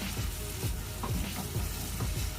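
Butter melting and sizzling in a hot pan for carbonara, with the stovetop already off, giving a close, steady sizzle broken by soft stirring scrapes in a regular rhythm, with no voices.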